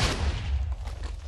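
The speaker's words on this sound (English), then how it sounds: "we are going to make a nuclear explosion" A big Minecraft TNT blast rolls out as a loud, deep, sustained rumble with crackling bursts layered over it, filling the whole short stretch with no talking.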